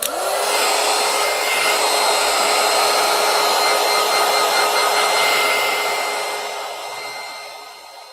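A hair dryer blows on a layer of coloring, a steady close whirring hum running for several seconds before it fades as it powers down, with no talk.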